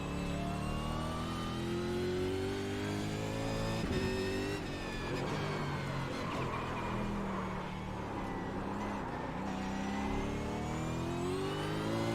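A Mustang or ZB Commodore race car in iRacing holds a loud, steady engine drone that rises in pitch through the gears, with one brief gearshift dip and faint tire squeal, and no talking.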